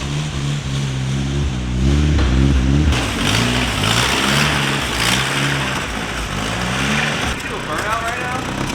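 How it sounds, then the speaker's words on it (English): A Honda KA engine with an exhaust leak runs rough in a rear-wheel-drive Honda Civic, its uneven, pulsing drone rising and falling slightly, heard close and loud throughout. "KAs don't sound good with exhaust leaks."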